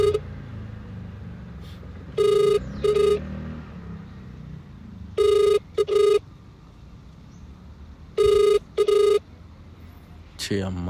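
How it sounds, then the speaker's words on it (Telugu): A phone rings in short double bursts, three pairs of loud electronic trills separated by pauses, over a low rumbling background during an outgoing call. "విష్ణుకే చేస్తున్నా."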